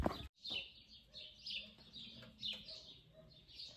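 Birds squabble and call in a noisy flock, repeated sharp chirps and calls in an irregular, agitated rhythm at moderate distance, faint overall, with a brief clatter at the start.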